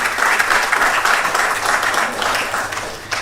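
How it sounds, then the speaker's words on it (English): A crowd applauds steadily, a dense wash of many hands clapping at once that carries on throughout. "let's give a round of applause to Noguchi."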